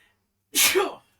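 A single sharp sneeze bursts out suddenly from near silence, loud and close, then fades quickly.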